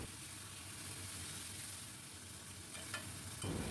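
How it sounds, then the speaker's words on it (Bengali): Taro stolons stirred while frying in mustard-poppy paste, a soft steady sizzle with a short scrape of the spatula toward the end, fairly quiet and close. "এইভাবেই নাড়াতে নাড়াতে পুরো লতিটাই সেদ্ধ হয়ে যাবে"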